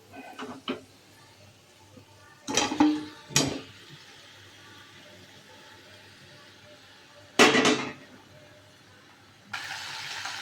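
Meat and potatoes are stirred in a pan with fried spices, heard as a few short scraping, rustling bursts separated by quieter gaps, with a longer steady sizzle near the end.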